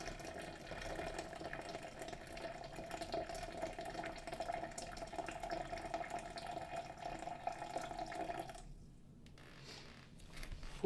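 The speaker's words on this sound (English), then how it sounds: "Then we add the rest of the water." Water poured steadily into coffee grounds while brewing, a smooth continuous trickling stream at close range for about eight seconds before it stops and the room goes quiet.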